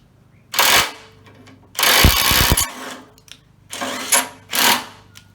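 A cheap counterfeit Milwaukee impact wrench works loose a rusty bolt in several loud bursts of rattling hammering, separated by short pauses, heard close by.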